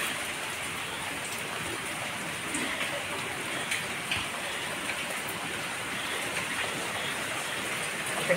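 Steady rain falling at night outdoors, a continuous even hiss of drops on surfaces with no break, moderately loud and constant throughout.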